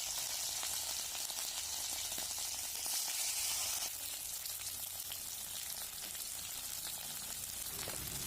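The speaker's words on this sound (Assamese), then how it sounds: "প্ৰথমতে মাছখিনি মই ফ্ৰাই কৰি ল'ম।" Kuchia fish frying in oil in a kadai, a steady close sizzle and crackle of hot oil running throughout with no voices.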